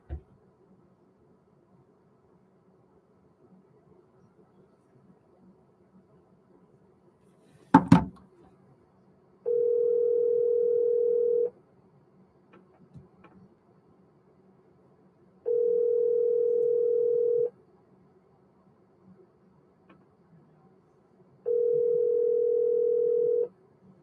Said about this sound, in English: let's call another person here.